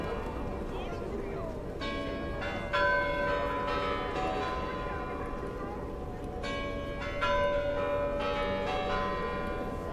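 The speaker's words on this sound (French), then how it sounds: "la cloche Spasskaya" Spasskaya Tower bell ringing on Red Square in Moscow during the year-end holidays, a few clear chimes swelling over steady crowd chatter and city hubbub.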